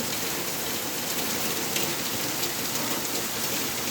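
Heavy monsoon-style downpour at night, a dense, loud, unbroken hiss of rain pounding surfaces, steady throughout with no voices.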